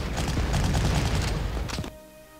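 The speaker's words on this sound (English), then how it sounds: "Bulgarians are opening fire." Gunfire from Bulgarian units in the war strategy video game Panzer Corps, a dense rattling fusillade of rapid shots and booms that cuts off abruptly near the end, loud and close.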